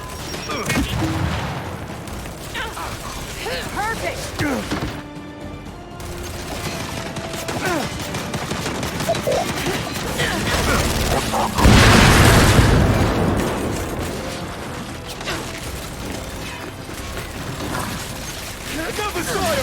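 A frag grenade going off in Gears 5 amid combat, with a heavy booming blast surging above steady gunfire and mechanical clatter, while voices call out over the fighting.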